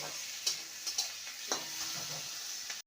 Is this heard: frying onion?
yes